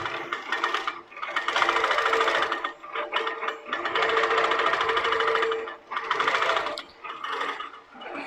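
A quilting machine guided by a Pro-Stitcher Lite stitches out a design, a loud, fast mechanical whirring hum running in long bursts with brief pauses and changes in pitch between runs.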